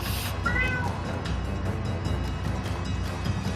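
A Bengal cat meows once, a short clear call in the background over a low steady room hum.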